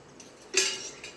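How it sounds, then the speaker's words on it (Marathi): A single metal spoon clinks against a pan while two spoonfuls of oil go in for a garlicky methi dish, one short bright clink with a faint ringing tail in a quiet kitchen. "दोन चमचे तेल टाकूया"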